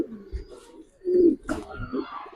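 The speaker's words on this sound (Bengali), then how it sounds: "বিগ সাইজের একটা কবুতর এবং দেখতে সুন্দর" A large Giribaz pigeon coos in low, throaty bursts close by, with a few soft rustles between calls.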